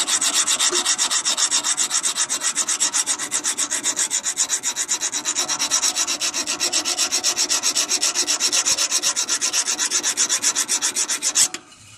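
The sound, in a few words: hand file filing down snowblower wheel keyway nick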